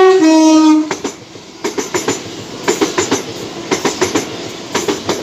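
A train runs through a station platform near Clapham Junction. A horn blares first, then wheels clatter in a steady rhythmic clickety-clack as the carriages roll past close by.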